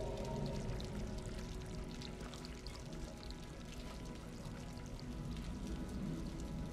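Water dripping into a bucket in the Stray video game, a steady soft patter over a quiet ambient background with no talking.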